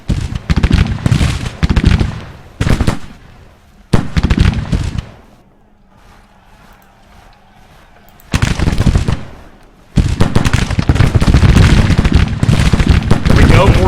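Civil War musket volleys and gunfire crackle loudly in a video game battle at Bentonville, with dense bursts of shots, a quieter lull midway, then sustained heavy firing.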